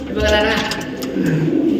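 A pigeon coos in a couple of soft rounded calls close by, while people talk nearby.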